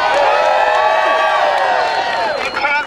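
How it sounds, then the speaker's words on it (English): A crowd at an outdoor Prop 8 protest in Oklahoma City whoops and cheers with clapping mixed in, a loud and lively mass of voices that dips briefly near the end. "think D here deserves a round of applause for all the help"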